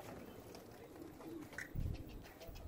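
Soft pigeon coos from birds on a rooftop in Quetta, faint and fairly distant, with a brief low flutter or thump toward the end over quiet background noise.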